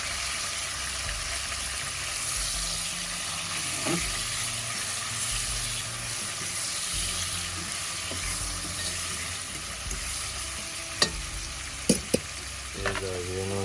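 A pot of salt mackerel and ackee is stirred over a continuous loud sizzle and bubbling, with a few sharp clinks of the spoon against the pot toward the end.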